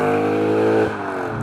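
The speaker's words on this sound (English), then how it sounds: "The best thing though is the sound of this engine." A tuned 400 HP Audi S4 with a 4.2L V8 revs loudly up close, a rich rising engine note that cuts off abruptly and settles into a lower rumble.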